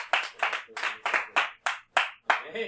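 A church congregation claps in rhythm during a sermon on baptism, about eight distinct, evenly spaced claps that sound close and crisp against a quiet background.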